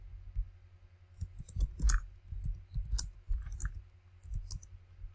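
Typing on a computer keyboard: irregular bursts of soft key clicks and thumps, close and fairly quiet, with short pauses between clusters and no talking.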